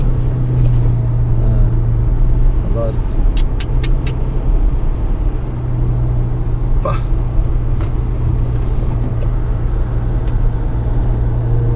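Road traffic on a Malaysian street, a steady low engine rumble of passing vehicles with a few brief sharp sounds on top and a short spoken remark.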